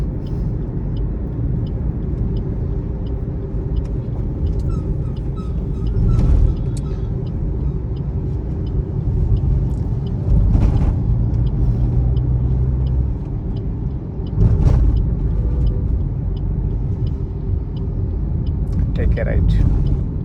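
A Maruti Swift car driving along a road and swinging through a U-turn, a steady close engine and road rumble with a few brief swells, heard with no talk.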